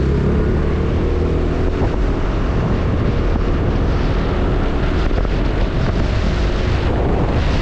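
Honda Forza MF08 fuel-injected scooter with a standard exhaust, heard while riding: a steady, loud engine drone mixed with heavy wind rush across the microphone, continuous with no talking.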